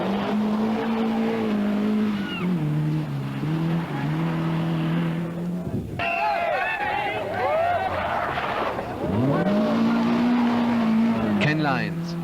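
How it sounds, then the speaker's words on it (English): A rally car on a stage of the 1982 Circuit of Munster Rally, its engine revving hard through gear changes with rising and falling whines and some tire squeal, while someone commentates over it. "Keith Edwards, with a lot of help from Mike Dunyan, is motoring well."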